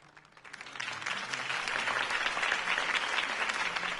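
A large crowd in a video game applauds after Harvey Dent's campaign speech, a dense, continuous roar of clapping that swells quickly and holds steady.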